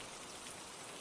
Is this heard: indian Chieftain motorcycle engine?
no